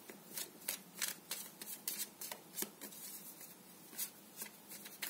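Tarot cards are shuffled by hand in a steady, crisp riffling rhythm of soft, quick slaps. The sound is close and quiet, and no one speaks.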